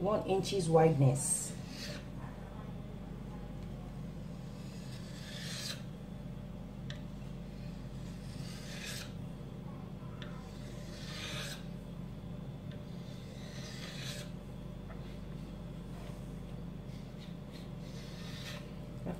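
A knife slices through chin chin dough on a board, making soft, repeated rasping scrapes at an irregular pace beneath a low background hum, with someone talking at the start.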